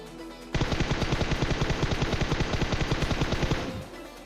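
Rapid automatic gunfire in a video game, a player in a ghillie suit firing in the open: a loud, steady burst of closely spaced shots lasting about three seconds, then cutting off.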